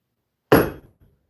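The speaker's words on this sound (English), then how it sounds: "the way I strike it with the hammer, it just comes out with a better strike if I do it upside down." A single sharp hammer blow strikes a metal hallmark stamp held upside down on a workpiece, a close, loud impact followed by a brief ringing decay and a faint after-tap.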